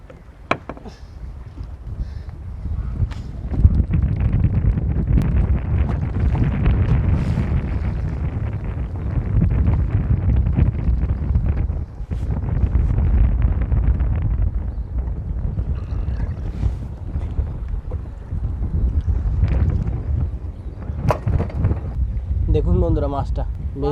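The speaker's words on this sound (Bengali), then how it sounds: "দেখুন প্রচণ্ড ঢেউ, সেই সাথে প্রচুর ঝোড়ো হাওয়া।" Strong gusting wind buffets the microphone in a boat on a Sundarbans river during rough water and big waves, a continuous loud roar throughout with a voice speaking at times.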